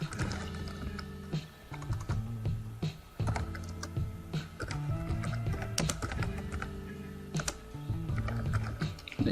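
Rapid keystrokes rattle on a computer keyboard while text is entered in Photoshop, close and crisp, in bursts with brief pauses between.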